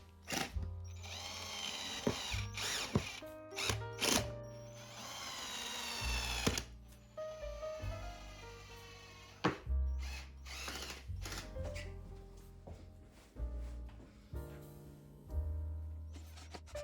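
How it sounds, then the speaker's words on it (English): A power drill drives screws into the wood panels of an IKEA PAX wardrobe. It gives repeated short whirring bursts at changing speeds, with ratcheting clicks and brief pauses, up close and without talk. "Screw them slowly in the beginning because they can damage the wood very easily."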